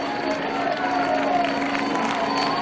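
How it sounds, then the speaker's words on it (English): Roadside spectators on a climb during the women's La Course by Le Tour de France 2019 cycling race, a loud sustained cheer and shouting crowd, with a commentator's voice running over it. "Great crowd on this climb"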